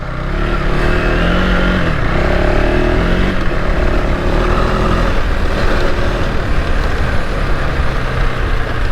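A stock KTM 390 Adventure R motorcycle rides off-road into a mud pit, its engine droning loud and steady throughout with no voices.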